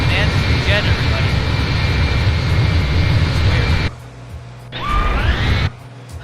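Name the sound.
jet aircraft engine sound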